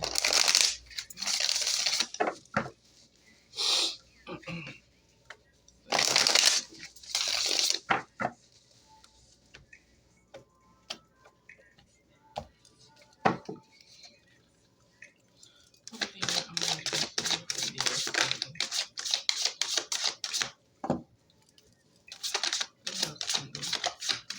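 Tarot cards are shuffled close by in crisp riffling bursts, with clusters of rapid flicking and snapping spread out between quieter gaps.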